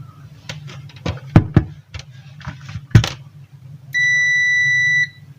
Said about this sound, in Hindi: यानी कि आपस में टच करेंगे तो ये बीप होगा।